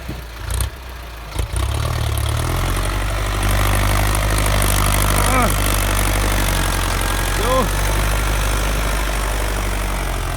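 A Ford 6610 tractor engine idles steadily with a deep, loud rumble, broken by a couple of brief knocks early and faint whistling tones riding over the drone.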